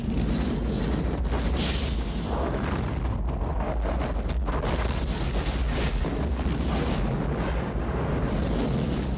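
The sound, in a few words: gas explosion in a film scene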